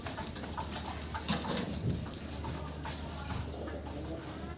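Racer pigeons coo softly at close range among other birds, their low murmuring calls repeating under a steady background hum with faint clattering.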